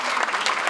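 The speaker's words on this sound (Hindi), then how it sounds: "आप लोग तालियां बजाते रहे" An audience at a poetry recital claps in a brief, dense burst of steady applause.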